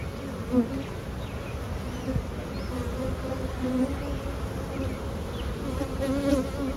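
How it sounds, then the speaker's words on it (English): Dense, steady buzzing of many honey bees swarming close around a hive, a continuous drone with no voices. "this thing is now boiling over with bees"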